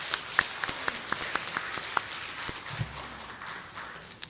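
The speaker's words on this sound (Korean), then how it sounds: "우리 박수로 환영하겠습니다" Scattered, sparse hand claps from a small church congregation welcoming a visiting deacon's husband at a Sunday service, irregular and fairly close.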